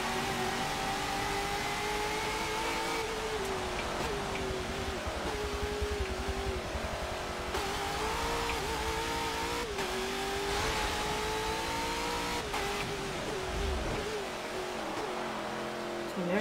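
In a racing video game, a car with boosted power drives on a wet track, its engine droning and revving continuously with rising and falling pitch sweeps and occasional shifts, fairly quiet throughout.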